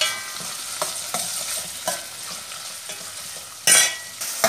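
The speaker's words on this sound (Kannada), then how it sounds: "ಟೊಮೆಟೊ ಪಾಡ್ದು ಫ್ರೈ ಮಾಡ್ತೀವಿ" Tomatoes fry in a pan for a veg kurma, a soft steady sizzle broken by a few light stirring scrapes and one louder burst of spitting near the end, with no voices.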